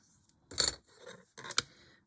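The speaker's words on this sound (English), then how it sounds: "I've cut myself a tiny little slither" Small scissors snip through paper for a miniature doll's house cottage, two close, crisp cuts with a short pause between them, heard alone with no talking.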